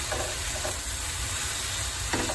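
Meat paste sizzles in a pan for Argentine empanadas, a constant frying crackle broken by a few scraping stirs near the start and again toward the end, with no talk.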